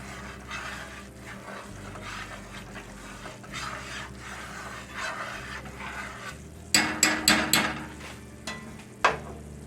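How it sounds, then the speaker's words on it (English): Country gravy made with chicken drippings and lard is stirred in a cast iron skillet over low heat, with a soft, repeated scraping under a faint simmer, followed by a few louder metallic knocks of the utensil against the pan. "Just keep on stirring."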